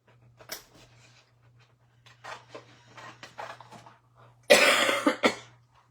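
One person coughs faintly at first, then a few muffled throat sounds follow, and a loud burst of coughing comes near the end, indoors over a steady low hum.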